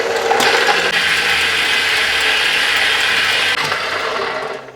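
Electric mixer with a broken whisk beating egg whites at full speed, a loud, close, continuous whirring grind with faint rattling clicks, steady throughout before tapering off at the end, with no voices.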